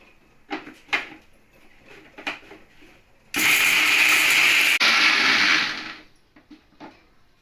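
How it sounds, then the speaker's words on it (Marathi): A kitchen mixer grinder whirs loudly for about three seconds as it grinds black masala spices, starting abruptly, dipping briefly, then running down, with quieter clatter and clinks of handling before and after. "आपला काळा मसाला मिक्सर मध्ये ग्राइंड झालेला आहे"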